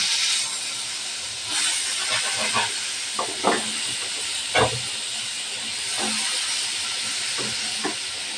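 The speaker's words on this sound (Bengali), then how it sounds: "এই তেলের ভিতরে আলু ভাইজে নেব" Steady hissing sizzle of potatoes frying in hot oil, broken by a few soft pops and clatters, with no voices.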